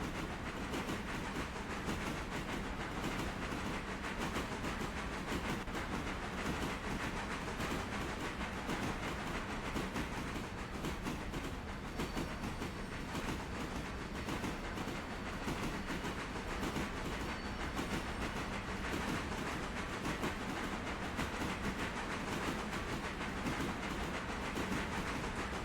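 A train in the video game RailRoader rumbles along continuously with rhythmic clickety-clack and hiss, steady and fairly loud, no voices.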